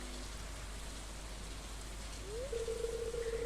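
Steady hiss of rain falling in the farming game Stardew Valley, constant and even throughout, with a soft tonal chime rising near the end.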